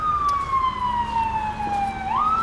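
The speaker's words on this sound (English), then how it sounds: "There's a loud ambulance coming up" A loud ambulance siren wails steadily outside the Supreme Court on a street, its single sliding tone dropping slowly then jumping back up, with steady traffic noise underneath and no talking.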